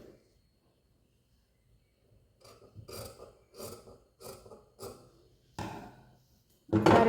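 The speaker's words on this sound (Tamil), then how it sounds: "இப்போ நம்ம இதை கட் பண்ணி எடுத்துக்கலாம்." Scissors cut through blouse fabric in a run of crisp, evenly spaced snips that grow louder toward the end, after a near-silent start.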